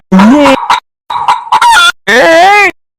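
Loud, frantic squawking of a rooster in rapid bursts with brief gaps, close and harsh, as it is chased.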